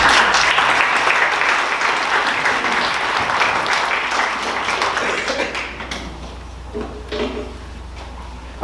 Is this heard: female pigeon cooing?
no